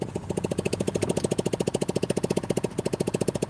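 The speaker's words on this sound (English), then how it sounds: "You hear the engine? It's a scooter engine." A Razor 150 scooter engine runs close by on a city street in Raleigh, North Carolina. Its loud, rapid, even putter pulses steadily throughout.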